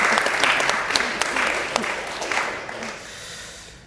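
An audience bursts into steady, dense applause with many hands clapping together, holding strong for several seconds before gradually thinning and fading toward the end.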